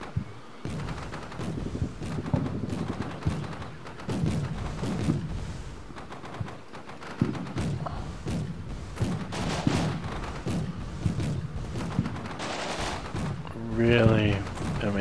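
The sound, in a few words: gunfire in the video game Combat Mission Shock Force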